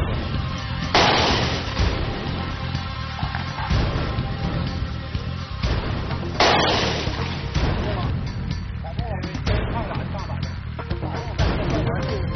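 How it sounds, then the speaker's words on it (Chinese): Pistols of three different calibers fire at stacked wooden boards from 20 metres: a few loud, sharp shots ring out seconds apart at an outdoor range, each followed by reverberating noise, with voices in the background. "三款手枪，三种完全不同的口径，在20米的距离上射击木板"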